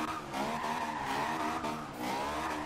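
A Honda S2000 drift build sliding sideways in Forza Horizon 2 on Xbox One, with continuous loud tire squeal over a high-revving engine held near the top of second gear.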